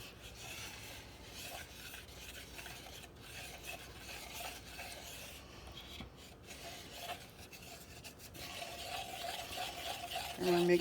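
A spoon works butter into oats in a bowl, making steady gritty rubbing and scraping strokes up close, with the effort growing louder near the end.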